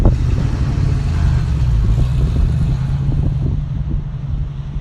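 A manual-transmission car pulling away with gas and clutch balanced, a smooth steady low engine hum heard from inside, mixed with wind buffeting on the microphone and no talk.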